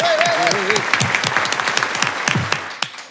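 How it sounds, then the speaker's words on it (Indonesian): Studio audience applause at the opening of a podcast, a dense burst of clapping that runs steadily for about three seconds, with a voice speaking over the start and a few louder claps near the end. "Tepuk tangan dong untuk podcast kita."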